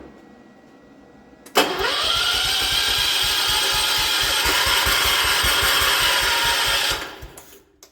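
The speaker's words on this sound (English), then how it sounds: "So now this tractor ought to light off and run." A 1979 John Deere 216 tractor engine cranks for about five seconds in a fast, even chugging rhythm without catching, loud and close, then the starter cuts off.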